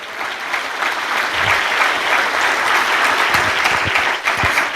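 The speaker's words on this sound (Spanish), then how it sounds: "Y un aplauso al Señor." A church congregation breaks into sustained applause, a dense, even roar of many hands clapping that holds steady throughout.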